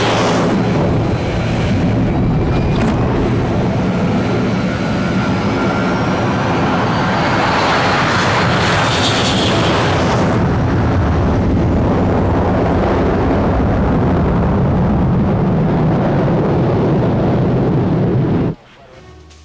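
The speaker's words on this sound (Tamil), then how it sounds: "ஃப்ளைட்டில் இருக்க எல்லா கண்ட்ரோல்ஸும் சரியாக தான் இருக்குது டாம். நீங்கள் எதுக்கும் கவலைப்படாமல் தாராளமாக புறப்பட்டு போகலாம்." A fixed-wing airplane's engines roar loud and steady at takeoff, a dense sustained rumble that holds for about eighteen seconds before cutting off abruptly near the end.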